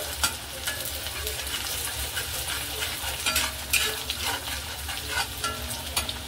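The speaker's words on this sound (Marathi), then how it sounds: "लसूण चांगला ब्राऊन होईपर्यंत या तेलामध्ये आपण फ्राय करायचं" Garlic fries in hot oil for a homemade Schezwan chutney, a steady bright sizzle with faint stirring scrapes, continuous and close with no talking.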